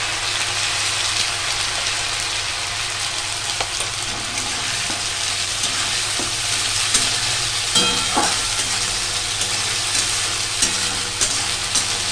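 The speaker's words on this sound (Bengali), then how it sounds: "মশলাটা একটু কষিয়ে নিই।" Spices and coconut frying together in a pan for a Bengali banana-flower curry make a continuous sizzle, broken by occasional spatula scrapes and clinks, with no one talking.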